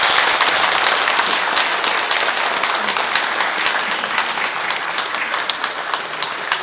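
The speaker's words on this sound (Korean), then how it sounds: "힘찬 박수 부탁드립니다." Hearty applause from a parish congregation at a Sunday Mass feast-day celebration for a nun, a thick continuous wash of many people clapping, loud and sustained throughout.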